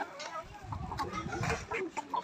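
Chickens at an urban farm in the Netherlands cluck and chatter close by while being fed, producing a busy overlapping mix of short calls.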